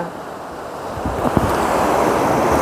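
Sea waves break on a sandy shore near a floating bridge, giving a continuous rushing surf that builds louder with wind noise, with no voices.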